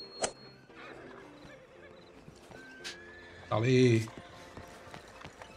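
In Red Dead Redemption II, a mare gives a loud, close whinny amid scattered hoof clops and short game sounds, while someone speaks briefly over it.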